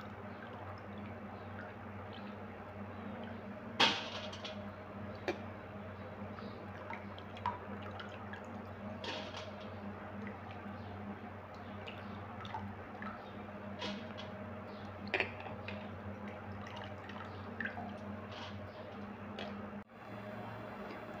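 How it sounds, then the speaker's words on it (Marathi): Soaked lentils, three kinds of dal, draining in a kitchen before dawn, giving a faint, steady trickle with sparse small drips and a few sharper taps over a low hum. "म्हणजे असं पाणी असं निथळून घ्यायचं आहे."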